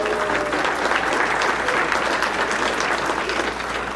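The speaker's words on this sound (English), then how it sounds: "Let's give him a big round of applause." A room full of people at a wedding claps steadily and loudly for the best man, dense applause holding at the same level throughout.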